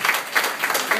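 A short burst of applause from an audience at an informal gathering where performers are introduced, dense steady clapping at close range with no talk over it.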